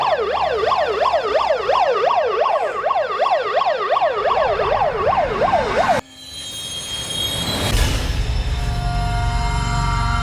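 A loud, near ambulance siren wails up and down in a fast, steady cycle for several seconds in a crime drama scene, then cuts abruptly to a low rumbling background.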